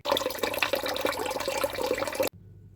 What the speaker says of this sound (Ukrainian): Приготування пів кілограма печінки залити водою